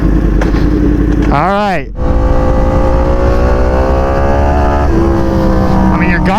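A Suzuki GSX-R sport bike with a full titanium exhaust roars loudly up close, a deep idle rising into sharp revs with a quick cut, then holding a throaty rumble before another rev; someone speaks briefly.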